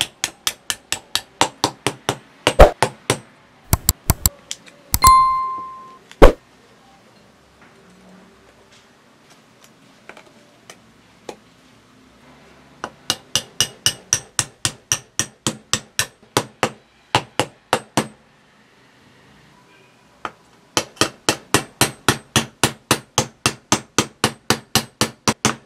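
Sharp metallic hammer blows ring out in fast, even bursts as steel transformer sheets are pressed into place, with pauses between the runs, close and loud.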